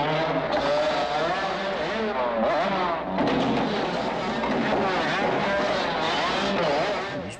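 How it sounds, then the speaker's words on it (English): A motorbike engine roars loudly and continuously in the 1985 horror film Demons, revving with wavering pitch under shouting and chaotic film sound. "A couple more laps on the motorbike, you might kill them all."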